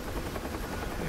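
Huey helicopter flying in the DCS flight simulator game over the Mariana Islands, its rotor and turbine making a steady, loud, dense drone that fills the short moment alone.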